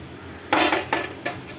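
Metal spoon scraping and clinking in a pan while beetroot poriyal is mixed with spice powder, three brisk clattering strokes close by with no talk.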